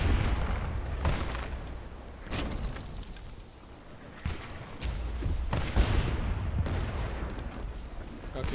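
Ship cannons firing in the pirate naval game Blazing Sails, with several heavy booming blasts spread across the stretch under ongoing game noise and players talking.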